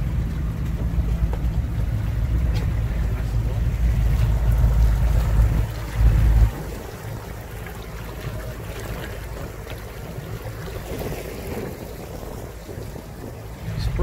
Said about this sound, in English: Look at this beautiful boat.